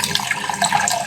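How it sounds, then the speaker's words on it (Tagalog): Water pours from a tap into a cooking pot in a home kitchen, a brief, steady splashing gush, close and fairly loud, with no one talking. "dito naman sa isa maglalagay ako dito ng tubig"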